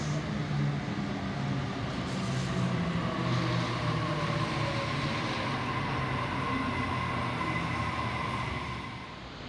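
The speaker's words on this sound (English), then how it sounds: "And an Oscar train passing platform number 1." An Oscar passenger train rolls steadily past platform 1 at Rhodes station, a continuous loud rumble and rail roar with faint whining tones that holds nearly throughout before easing slightly at the end.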